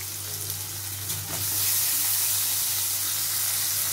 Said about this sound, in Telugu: అట్టకాయ ముక్కల్ని ఉల్లిపాయ ముక్కలతో పాటు ఫ్రై చేసుకోవాలి